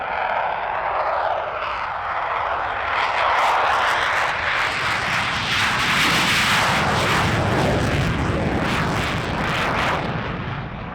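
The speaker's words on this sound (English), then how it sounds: "One of the most anticipated displays for we international visitors had to be the Polish Air Force Sukhoi Su-22M-4 fitter." A Polish Air Force Sukhoi Su-22M-4 fighter-bomber flies a solo display at an airshow in Gdynia. Its jet engine gives a loud, continuous roar that swells and shifts in pitch as it passes overhead, with no voices.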